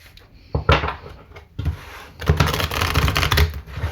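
Oracle cards are shuffled and drawn by hand, a few papery flicks and slides followed by a longer riffling shuffle, close and crisp with no talking.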